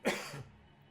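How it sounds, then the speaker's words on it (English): A single short cough bursts out near the microphone during a game commentary stream, followed by a faint trailing breath before quiet returns. "Oh, that was a cough, but thank you."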